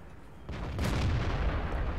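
World of Tanks cannon fire from a T-54 or Object 140 rings out as a single heavy boom about halfway through, followed by a sustained rumbling roar and battle noise with no talking.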